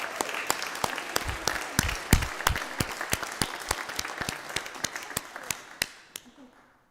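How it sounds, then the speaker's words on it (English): Church congregation clapping at a Sunday service, a sparse scattering of distinct claps that builds briefly then thins out and fades to silence, with no talking over it. "Yeah, you can clap, right?"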